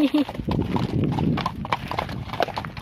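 Hooves of international polo competition horses clip-clop past on a road, a busy patter of steps under people talking nearby.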